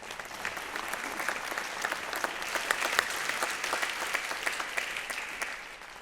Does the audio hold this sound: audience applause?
yes